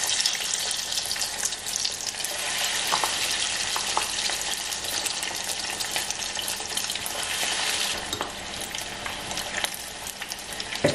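Breaded vegetarian nuggets coated in flour, egg and fine breadcrumbs frying in hot oil, a dense, steady sizzle with crackling pops that continues close and loud throughout, no voices.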